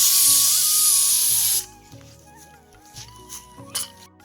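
A pressure cooker of boiled jackfruit vents steam in a loud, close, rushing hiss for about a second and a half, then cuts off abruptly, leaving faint clatter and small knocks afterward.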